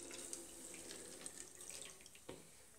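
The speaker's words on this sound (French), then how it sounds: "on verse dans la bouteille." Warm saline solution poured from a saucepan into a bottle, a steady close liquid trickle and splash running the whole time with a few small drips and clinks, no voices.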